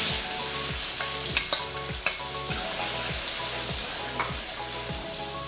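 Tofu sizzles steadily in hot oil in a pan for an anchovy stir-fry, with a dense, continuous frying hiss and periodic scraping clinks of a utensil stirring, no voices.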